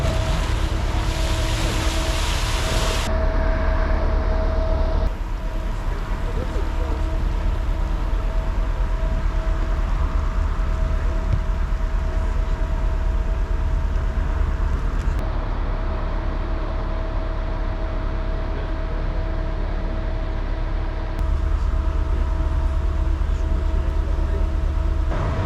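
Firefighters release water against a flexible flood barrier in a Lisbon metro test, a loud continuous rushing gush with steady low pump rumble and a faint tonal hum, sustained without talk.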